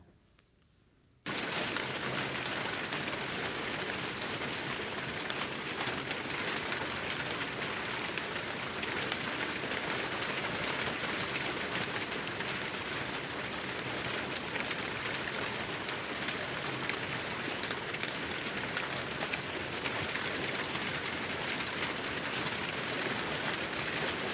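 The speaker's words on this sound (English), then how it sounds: "What did it sound like? Rain." Steady rain falls for about 23 seconds after a brief quiet opening, a dense even hiss of drops on surfaces with no voices.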